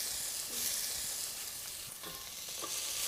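Onion hitting hot oil for a Chikhali-style dal gosht: a steady, fairly faint frying sizzle runs throughout with a few soft stirring knocks, close by and without voices.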